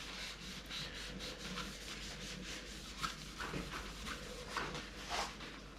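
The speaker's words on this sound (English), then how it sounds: "So if you clean the bar down first, some brake cleaner," Brake cleaner and a paper towel wiping a motorcycle handlebar clean, a close, steady rubbing and scrubbing sound with a few louder strokes and no voices.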